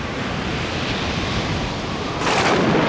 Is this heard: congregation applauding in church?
no